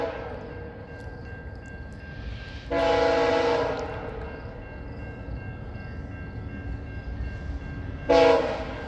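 VIA Rail train 79 rumbles past at night, its horn sounding two loud blasts, the first long and the second short, over a steady low rolling rumble of the cars.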